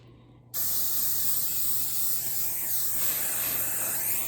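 After a brief quiet moment, a close aerosol rain and stain repellent spray bursts on and hisses steadily and loudly without a break, sprayed onto the piping of a Louis Vuitton Speedy 40 leather bag.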